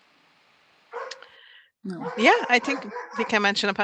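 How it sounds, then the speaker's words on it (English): Dogs bark and yip excitedly in the background while a person talks over them. "Sorry about my dogs in the background."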